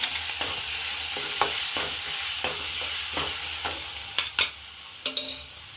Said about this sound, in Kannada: ಹಸಿರು ಮೆಣಸಿನ್ಕಾಯಿ ಪೇಸ್ಟ್ ಹಾಕ್ತಾಯಿದ್ದೀನಿ.